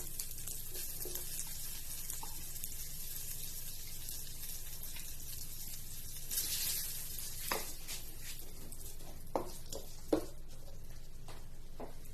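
Ginger sizzles quietly in hot melted butter in a pan, a soft steady hiss with a brief louder burst and a few light clinks of a utensil.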